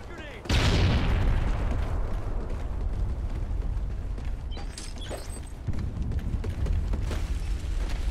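Call of Duty: Ghosts multiplayer match in Kill Confirmed mode, where a grenade blast bursts out loudly after a short pause and is followed by sustained rumbling and scattered gunfire and mechanical clatter, with brief voice callouts.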